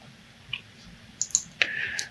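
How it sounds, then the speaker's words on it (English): Computer keyboard key press followed by mouse clicks during 3D modeling software work: a few sharp, close, light clicks scattered over a quiet room background, no talk. "So from the keyboard, just press Y and then click."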